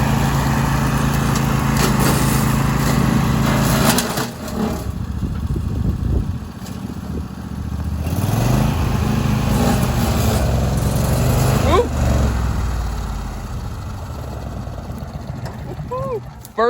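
A DR PROMAX34 22hp tree mower engine roars loud and steady as it pushes through brush into woods, dipping briefly under load and revving back, with a voice speaking over it.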